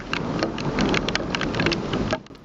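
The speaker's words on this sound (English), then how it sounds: "We can see lightning flash and hear thunder roll in the background." Heavy rain during a storm, steady hiss of drops pattering on surfaces with a low rumbling undertone of rolling thunder, loud and continuous before easing off at the end.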